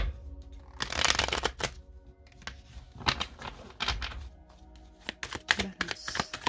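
Oracle cards cut and shuffled in a riffling flurry of close papery flicks and slaps, arriving in several bursts with short pauses between them and no talking.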